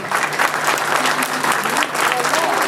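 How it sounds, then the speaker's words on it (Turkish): Steady, dense clapping from an audience of parents at a kindergarten report card ceremony fills the whole stretch, loud and continuous, with crowd noise and voices mixed in. "biz büyük bir alkış isteyelim velilerimizden, çocuklarımıza"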